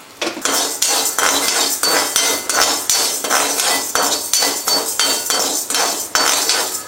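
Rock salt dry-roasted in a metal pan, with rapid rhythmic scraping and rattling of a spoon against the pan in steady repeated strokes, loud and close.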